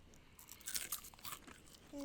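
Someone bites and chews a cricket, producing a series of close, faint crunches and crackles at an irregular pace.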